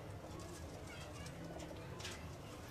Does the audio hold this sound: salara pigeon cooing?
yes